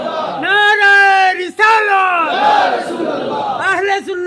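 A large crowd at a religious gathering chants Allahu Akbar in unison in response to a Takbir call: loud, drawn-out shouted voices in several swelling waves with a short break in the middle.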